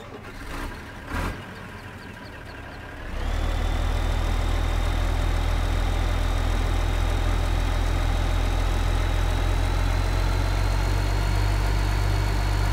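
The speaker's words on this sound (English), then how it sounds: "I really like the sound of this tractor." A tractor engine in the video game Farming Simulator 2015 starts up after a few brief clicks, then settles into a loud, steady low idle with a droning hum that holds unchanged for about ten seconds.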